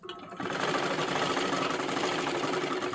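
A sewing machine runs a double line of stitching over tucks on silky fabric while attaching a lining, its close, steady whir starting softly, then holding a loud, even drone to the end.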